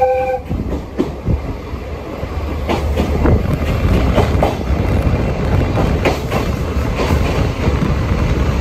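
Kisuki Line's Okuizumo Orochi sightseeing train rolls along the rails, a steady loud rumble with rhythmic clickety-clack of wheels over joints and a brief horn-like tone at the start; no talking.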